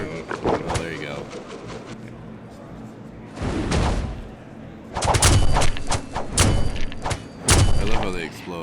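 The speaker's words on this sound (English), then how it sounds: "I love how they explode everywhere. Just showers of bricks everywhere." Bricks burst apart in the video game Legacy Quest, loud crunching blasts arriving in several clustered bursts, with a quieter stretch of rapid clicky game effects before them.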